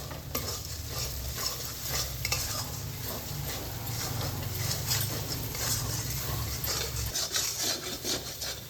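Spices with turmeric and salt are stir-fried in a pan, with continuous scraping and stirring over a soft sizzle, quiet and close.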